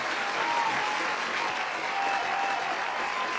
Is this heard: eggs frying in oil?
no